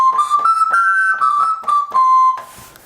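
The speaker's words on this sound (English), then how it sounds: "So it looks kind of like a pianica or a melodica, but it sounds like a recorder." Suzuki Andes keyboard wind instrument with a recorder-like tone, playing a short sustained melody of a few breathy, whistle-like notes, close and alone, ending in a brief burst of breath noise.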